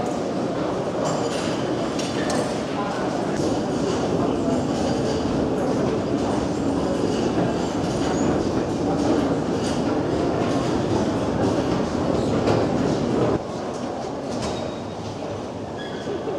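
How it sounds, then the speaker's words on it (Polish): A train rolls past close by in Warsaw, giving a loud continuous rumble with clattering wheels and faint metallic squeal that holds steady before easing slightly near the end. "Uwaga, pociąg."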